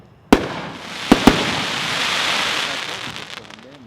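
A Willy's Choice 183-shot consumer firework cake fires at a fireworks convention demo: a few sharp launch pops, then a dense crackling, hissing wash of bursts that lingers and fades.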